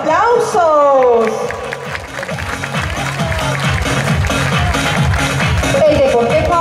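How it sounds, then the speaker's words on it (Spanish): Audience at a village pageant applauding: steady rhythmic clapping throughout, with a voice calling out over it near the start. "¡Aplausos!"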